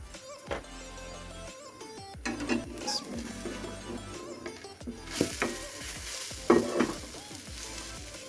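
An egg cooks in a pan on low heat with a gentle, steady sizzle, broken by repeated scraping and clanking from a utensil moving across the pan.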